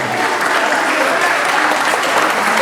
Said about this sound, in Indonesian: perlu kita apresiasi dan perlu kita tepuk tangan dulu dong